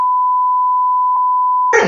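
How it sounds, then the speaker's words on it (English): A loud, steady censor bleep tone holds for nearly two seconds, broken by a brief blip partway through, before a burst of noisy sound cuts in at the end. "The amount of bleeps you're going to need to do for me."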